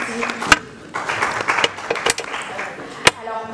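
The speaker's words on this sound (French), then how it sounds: "On peut l'applaudir de nouveau." Audience applause at the 2019 Red One press conference at the Institut français in Kinshasa, a dense spread of clapping with a few sharp, louder claps standing out, with voices murmuring underneath throughout.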